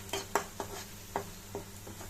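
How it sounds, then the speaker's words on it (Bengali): Onions fry in a pan for spicy Bengali-style egg bhurji on a low gas flame. A utensil stirs and scrapes in several separate strokes over a faint sizzle. "পেঁয়াজগুলো ভালো করে যদি ভাজা না হয় তাহলে মজা লাগবে না।"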